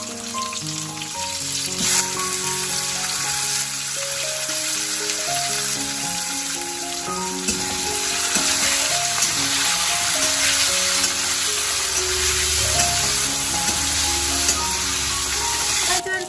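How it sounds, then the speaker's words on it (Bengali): Onions and tomatoes fry for sambar in a pan, a steady close sizzle with occasional stirring clatter and faint background music running throughout, no talking. "টমেটোটা আমি হালকা করে ভাজা ভাজা করে নিয়েছি।"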